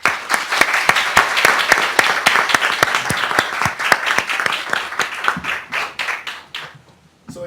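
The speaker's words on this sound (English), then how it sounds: "And a final round of applause." Audience applause closing a lecture on veterans' health: a small crowd claps in a sparse room, individual hand claps distinct and fairly close, thinning out and fading near the end.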